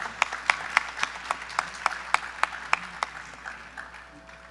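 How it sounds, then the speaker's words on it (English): Audience clapping at a Bharatanatyam arangetram, a solo classical Indian dance debut recital, sounding as sparse, distinct individual claps in a steady rhythm that thin out and fade toward the end. "So one more round of applause for Vidhi."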